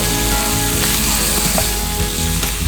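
Steak frying in a hot pan gives a steady, loud, continuous sizzle with a few brief crackles and pops, heard close up and alone.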